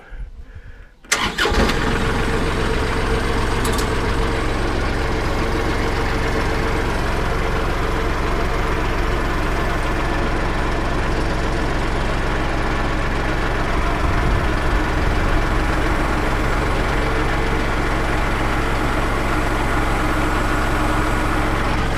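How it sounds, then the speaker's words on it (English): A 33-horsepower engine cranks and fires up abruptly, then settles into a loud, steady idle that continues for a long stretch. "Fire this big old 33 horsepower engine up."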